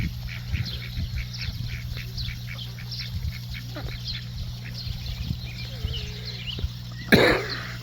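Ducks on a garden smallholding, mostly females, quack and hiss in a steady stream of short nasal calls over a constant low hum, with a louder scuffing burst near the end.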